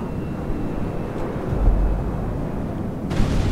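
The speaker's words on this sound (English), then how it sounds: "Oh, there went the cargo plane." A cargo plane in GTA V roars past as a broad, steady rumble, with rushing wind noise throughout and a slight swell near the end.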